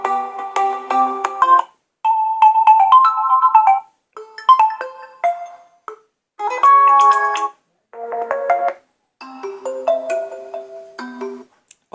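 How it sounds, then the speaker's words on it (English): A default ringtone plays on a Realme C21 phone, a series of short bright melodic chime phrases separated by brief silences, loud and close with no voices. "So here you can see some default ringtone, and from here you can select any ringtone."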